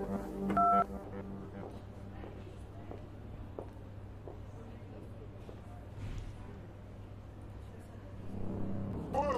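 A few short electronic telephone keypad tones near the start, over steady low background hum and faint indistinct voices.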